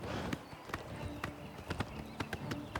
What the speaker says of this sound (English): I love how fast this horse is